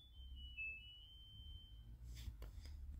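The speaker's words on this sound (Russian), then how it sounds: "Стирка постиралась, пищит." A washing machine gives a single long high beep at the end of its wash cycle, thin and fairly faint against low room hum, followed by a few soft clicks.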